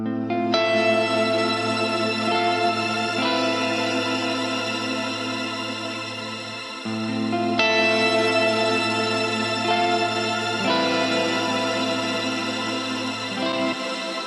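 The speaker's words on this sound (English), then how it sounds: "now I'm going to show you with the Atlantis Reverb" Sustained synth or guitar chords wash through the Atlantis Reverb plugin in Reaper on its Epic Swell preset, two long swelling passages with thick shimmering chorus-like tails that fade briefly around the midpoint before building again.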